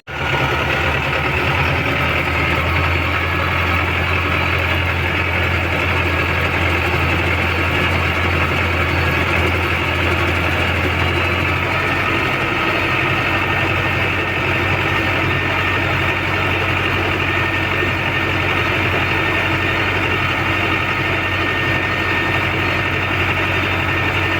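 A tractor engine runs steadily with a loud, deep, even drone throughout while fertilizing a corn field, with no talk over it.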